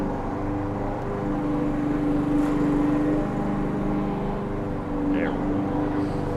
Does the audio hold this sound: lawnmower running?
yes